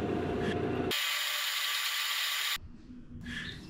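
Steady close machining noise from a milling cutter, 6mm, taking 1.5mm passes on a drive shaft at 1000 RPM under auto feed, a continuous hiss-like cut that stops abruptly before quieter shop sound resumes.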